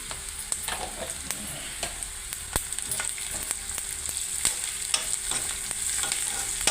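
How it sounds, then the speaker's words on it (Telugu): Chopped onions with a pinch of turmeric frying in a pan for raw banana curry, a steady quiet sizzle broken by repeated scraping and stirring taps of a spoon against the pan, with no talking. "ఉల్లిగడ్డ కొంచెం రోస్ట్గా వేయాలి కొద్దిగా పసుపు"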